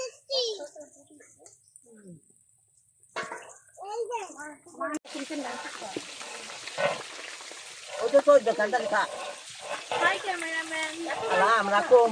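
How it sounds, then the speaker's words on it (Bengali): Fish frying in a pan while food is cooked for a Rajbanshi shraddha ceremony. A broad sizzle builds and holds over the latter part, with several adults and someone talking nearby and occasional watery clatter. "তো এখন এই যে মাছ ভাজা হচ্ছে"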